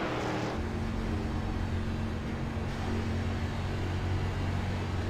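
Damaged Ford Mustang Xfinity race car heard onboard in a diecast superspeedway race at Daytona, a rough, steady engine drone with a constant hum, continuous and fairly close, no talking.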